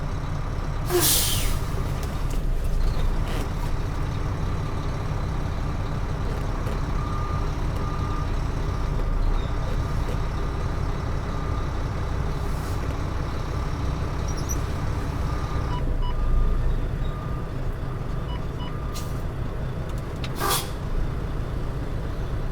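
A truck reverses slowly while the driver works the clutch, with a steady rumbling engine and a hiss of air brakes, plus a few brief sharp clanks and squeals near the start and end.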